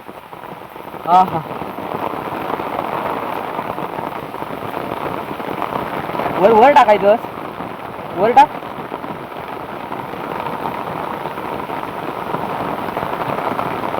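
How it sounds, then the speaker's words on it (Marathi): Steady rain falls on a surface during an outdoor fishing outing, a dense even hiss throughout, while people talk briefly over it now and then. "हो पाऊस आलो त्यामुळे छत्री घेऊ आलं होतं"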